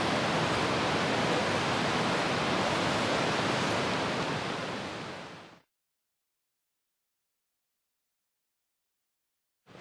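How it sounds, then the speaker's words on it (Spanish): A river murmurs in a steady, loud, broad rushing wash for about five seconds, then fades out abruptly into silence for the rest of the clip. "el rumor del río."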